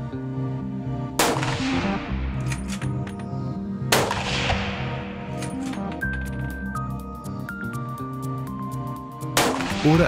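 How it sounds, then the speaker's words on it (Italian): Three sharp rifle shots ring out about three seconds apart while the zero of a Swarovski X5 riflescope is checked. Each shot is loud with a short decaying echo, and soft metallic clinks come between them. "effettuare una rosata da tre colpi per verificare la posizione zero"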